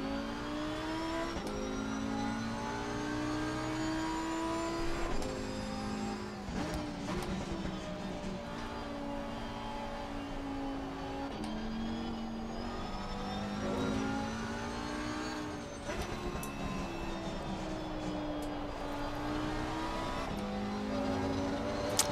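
Audi GT2 race car in Assetto Corsa Competizione, its engine revving loud and steady throughout with rising and falling pitch sweeps of gear changes, no talk over it.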